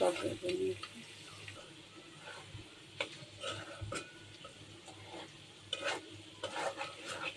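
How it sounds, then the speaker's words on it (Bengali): Meat and potatoes fry quietly in a pan, a soft sizzle under frequent clanks and scrapes of a utensil stirring, close but low in level, with faint voice-like sounds at times. "আলু আর গোশটা ভাজা হয়ে গেছে।"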